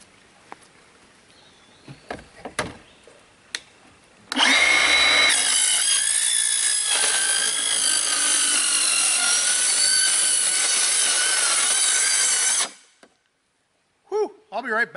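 A Milwaukee 2782-20 metal cutting circular saw bites into a junky steel cart, a loud, steady high-pitched grinding whine lasting about eight seconds after brief knocks and handling, then cutting off abruptly before faint clatter.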